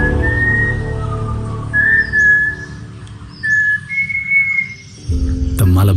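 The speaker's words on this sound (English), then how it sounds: "The Malabar whistling thrush." A Malabar whistling thrush sings clear, drawn-out whistled notes in short phrases with pauses between, over a low ambient rumble in a forest, ending with a sudden burst of noise.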